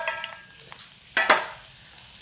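Chillies and spices hit hot oil for chivda with a sharp double sizzle burst, set among softer scraping stir sounds and quiet gaps.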